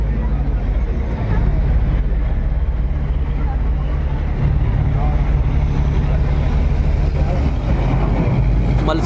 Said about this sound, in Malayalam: മത്സ്യബന്ധന ബോട്ട്.